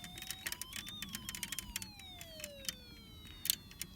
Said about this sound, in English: As long as you're shaking the vibration switch, the siren and light will remain on.